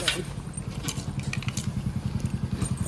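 Motorcycle engine idling nearby with a steady rapid low putter, close and fairly loud throughout, with faint talk and small clatters over it.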